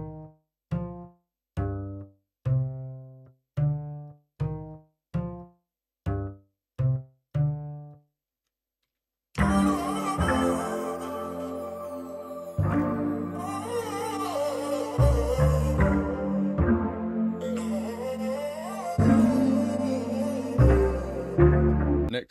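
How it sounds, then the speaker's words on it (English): A hard, plucked double bass sample from Expand picks out root notes in a quick run of separate, evenly spaced hits, then continues beneath a fuller hip-hop loop with low bass and melodic layers. "next I'm gonna add this hard double bass from Expand, just following the root notes"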